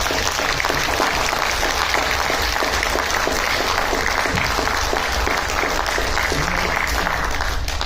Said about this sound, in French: je vais vous demander, si vous êtes d'accord, de les applaudir comme il se doit